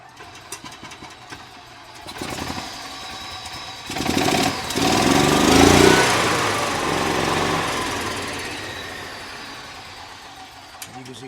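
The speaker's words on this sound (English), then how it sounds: "when we put the spark plug on it, the cart fired up" EZGO gas golf cart engine cranking, then firing up into a small, buzzy single-cylinder run that swells and slowly settles, close by and fairly loud after a quieter stretch.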